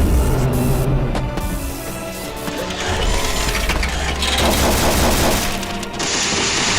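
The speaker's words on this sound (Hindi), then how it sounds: "भाई लो इसने अब अपनी मिसाइल से हमला फिर से कर दिया गोडजिलार्थ पे।" Anime fight between Mechagodzilla and Godzilla Earth, with a missile attack rendered as loud, continuous rapid-fire blasts and explosive crashes that fill the whole stretch without a break.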